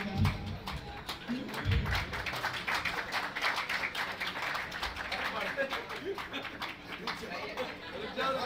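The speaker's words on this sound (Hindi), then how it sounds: "तो जोरदार तालियों से स्वागत करेंगे इन छोटी सी बच्ची का।" At a college freshers' party, an audience claps warmly for a young girl's performance, a steady, dense patter of applause mixed with crowd chatter and voices.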